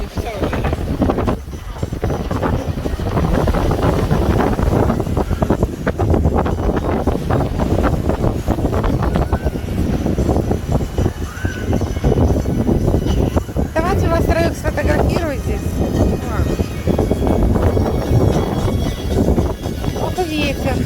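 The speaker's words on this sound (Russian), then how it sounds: "Вот и ветер." Strong wind at the Mediterranean seaside buffets the microphone in continuous loud, rough gusts, while people talk through it.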